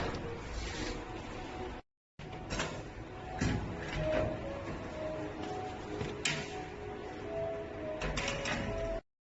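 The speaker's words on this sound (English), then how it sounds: "The receipt will come out." Cooling locker vending machine printing a receipt, a mechanical whirring printer run with clicks and sliding clunks, a brief dropout early on, moderately close with no talk.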